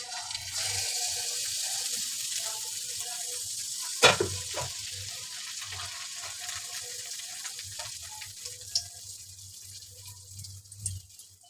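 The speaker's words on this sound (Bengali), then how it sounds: "আমি পিঠা ভাজা শুরু করলাম" Tel pitha cakes fry in hot oil in a wok, giving a steady close sizzle throughout with a single clattering knock near the middle and a few light scrapes, with no talking.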